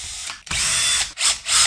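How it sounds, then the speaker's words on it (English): Screws are removed from the microcomputer board of a Bang & Olufsen Beomaster 3500 receiver, producing close, bright whirring bursts with brief clicking pauses between them. "So I'm gonna remove the 3 screws and lift off the microcomputer."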